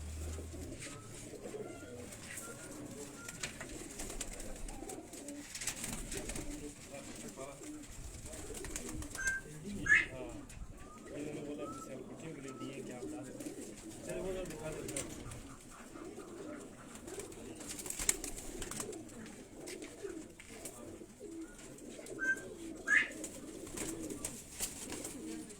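Pigeons coo softly in an ongoing, uneven murmur in a keeper's loft, the low calls repeating under background noise and occasional chirps while someone talks intermittently.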